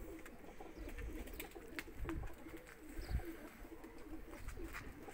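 A female tumbler pigeon coos in a coop, soft low calls repeating at moderate distance over a steady background hum of other birds.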